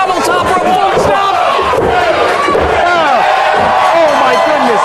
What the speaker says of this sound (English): And the crowd loves it! They are electric here!